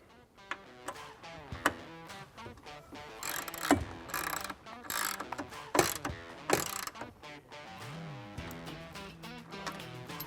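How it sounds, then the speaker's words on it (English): A T30 driver tightens an M6x15 bolt while fitting a Trektop on a 2-door Bronco, giving a run of sharp ratcheting clicks and mechanical clatter, close and fairly loud, with no talk. "Come back with our T30 to tighten that up."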